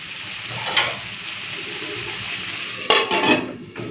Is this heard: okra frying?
yes